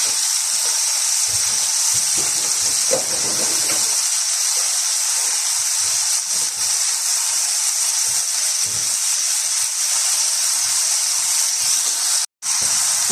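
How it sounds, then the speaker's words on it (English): Chicken searing in a hot pan, producing a steady broadband sizzle and hiss at close range that holds evenly, with a brief cut near the end. "Now don't move it straight away, let it start to just seal and sear underneath."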